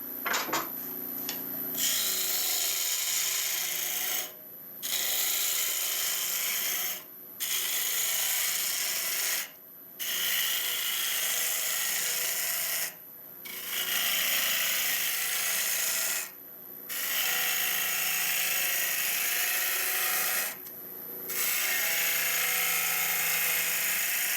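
A turning tool rattles harshly against a calabash bowl being hollowed on a lathe, a loud buzzing chatter in long bursts broken by about seven short pauses as the cut stops and restarts.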